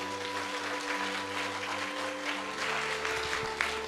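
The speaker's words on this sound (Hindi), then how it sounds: "ताली नहीं बजाएंगे आप?" Applause from a church congregation during a Hindi sermon. The clapping is spread out and steady over a low sustained hum, probably from an organ or keyboard, and it swells slightly toward the end.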